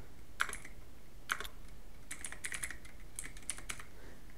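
Keys on a computer keyboard tapped in a few short bursts as a command is typed at a Windows command prompt, crisp and close with brief pauses between clusters of keystrokes.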